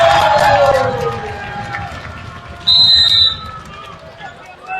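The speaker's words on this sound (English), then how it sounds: "You can listen to the crowd." A crowd at a high school basketball game cheers and roars loudly at first, fading into a busy arena murmur, then a brief whistle-like tone cuts through.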